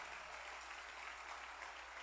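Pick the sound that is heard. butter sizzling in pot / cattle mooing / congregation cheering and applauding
congregation cheering and applauding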